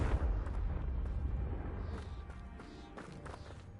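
A Confringo spell explosion in the Hogwarts Legacy game, a deep booming blast that rumbles and slowly fades, followed by scattered lighter crackles, with no talk.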